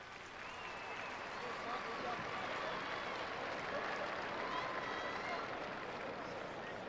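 Crowd at a high school state championship football game applauding, a broad steady wash of clapping and cheering heard from a distance across the stadium with a few whistles.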